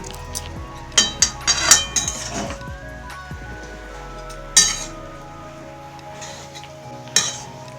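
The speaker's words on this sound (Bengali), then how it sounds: "এবার শাকটাকে ভালো করে নেড়ে চেড়ে নেবো" A spatula stirs spinach in a cooking pan, with scattered metallic clinks and scrapes against the pan over a faint sizzle, in a few clustered bursts separated by quieter pauses.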